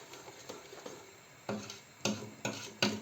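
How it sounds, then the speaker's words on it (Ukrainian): A utensil scrapes and rubs against a pot of jelly cooking on high heat in several distinct strokes, growing louder toward the end, close by with no talk. "Весь час ми помішуємо на великому вогні"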